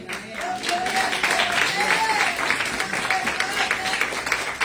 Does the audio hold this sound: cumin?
no